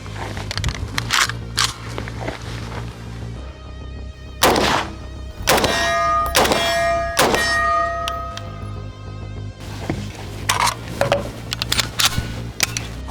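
Robinson Armament carbine, a 16-inch barrel 223 Remington gun converted to 7.62x39, being handled as a magazine is loaded and the action checked: sharp metallic clanks and clicks in scattered bursts, close and loud, with no talking.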